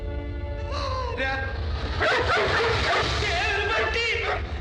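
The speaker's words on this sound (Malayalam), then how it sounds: "ഇവിടെ ഒരു പട്ടി" A dog barks and yips in a Malayalam film scene, its barks mixed with shouting voices and background noise, fairly close and loud.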